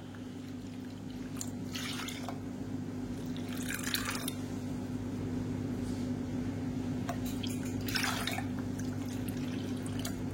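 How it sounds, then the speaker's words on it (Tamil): Water is poured into a pot, about five cups, for black kavuni rice porridge, a steady liquid trickle over a constant low kitchen hum, with brief brighter splashy bursts recurring throughout. "இப்போ 1 கப்புக்கு நல்லா 5 கப்பு தண்ணி ஊற்றிக்கலாம்"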